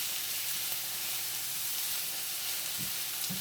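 Maple Jim Beam sausage cooks down in a pan for spaghetti, a soft, even sizzle hissing continuously at low level with a couple of faint utensil knocks near the end.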